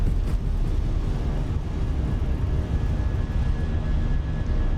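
An Airbus A320 in the Fenix A320 flight simulator roars through its takeoff run with a loud, steady, broadband jet engine rumble that holds constant and close throughout, with no voices.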